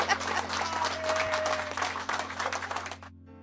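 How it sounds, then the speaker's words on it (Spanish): A small gathering of union retirees claps, a crowded patter of hands with some murmuring, fairly distant and steady before stopping abruptly near the end. "Y aplausos."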